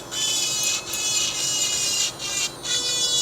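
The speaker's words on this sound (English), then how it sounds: "I'm not going full pelt on this when you're trimming metal" A tungsten carbide burr trims the metal of a denture at slow speed, a close, loud, high gritty whir broken by several brief pauses as the burr lifts off.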